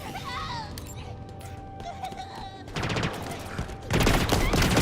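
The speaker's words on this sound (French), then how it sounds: "Hop, un pistolet électrique." An electric pistol fires in Halo Infinite as a rapid burst of sharp electronic shots that grows denser and louder toward the end, with game effects and a voice beneath.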